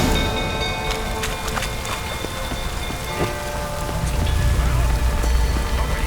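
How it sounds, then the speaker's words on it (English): Steady rainfall in the video game The Witcher III, a dense, continuous patter with scattered drop hits that swells slightly louder toward the end, heard without speech. "Looks like rain."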